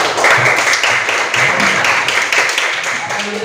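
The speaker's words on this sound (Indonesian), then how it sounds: "Berikan tepuk tangan untuk kelompok 1" Students in a classroom applaud group 1: a dense, steady patter of many hands clapping throughout, mixed with murmuring voices.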